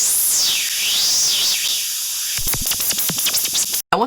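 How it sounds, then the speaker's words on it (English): Synthesized screech made from filtered noise, like a dentist's drill: a loud, hissing high whine that sweeps up and down, then breaks into rapid stuttering bursts before a brief dropout and a final burst, alone. "I turn the noise we made into the sound you hear when you're at the dentist"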